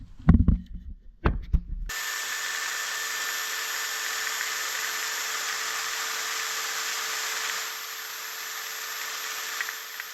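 A power drill spins a strip of emery cloth held in a rubber hose, scouring the bore of a motorcycle brake caliper; a steady, loud whir with a grinding rasp runs unbroken after a few brief knocks at the start.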